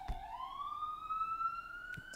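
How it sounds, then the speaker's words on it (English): A siren wails steadily with a rising, sustained tone, heard at moderate distance, with faint background noise. "Perfect siren at the right moment, huh?"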